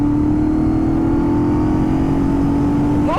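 Moto Guzzi V11 Sport V-twin motorcycle exhaust holding a steady, throaty drone at close range, with a slight rise in pitch at the very end and no voices.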